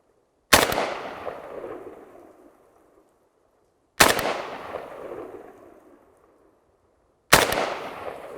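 Three single rifle shots from a Century Arms N-PAP AK fired at the range, each a sharp loud crack with a long decaying echo tail, spaced about three seconds apart with quiet between.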